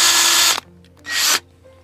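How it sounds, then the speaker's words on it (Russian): A cordless drill bores shallowly into a birch trunk to tap sap, running in two loud whirring bursts separated by a brief pause. "Сверлим, вот буквально. Максимум на сантиметр."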